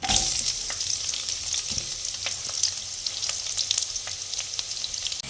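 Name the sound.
onions frying in oil with biryani spices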